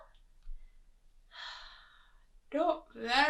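A storyteller reading a children's bedtime tale voices a bear's yawn, a long breathy exhale followed by drawn-out vocal sounds, close and fairly soft against a quiet background.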